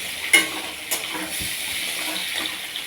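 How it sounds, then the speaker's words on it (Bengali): Bamboo shoots and potato fry in a pan with a steady sizzle, and stirring scrapes sound through it at close range. "বাঁশকৌলটা এখন আলু আর বাঁশকৌলটা ভাজতে আছি"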